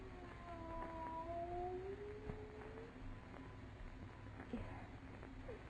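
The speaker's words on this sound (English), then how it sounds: "Why, no, it's a cat." A cat's drawn-out, wavering yowls and meows rise and fall over a noisy background in a 1942 radio horror drama, moderately loud and spread across the first few seconds, with fainter cries later.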